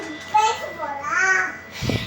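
A young boy, still awake late at night, babbles with rising and falling vocal sounds close by, followed by a short low thump near the end.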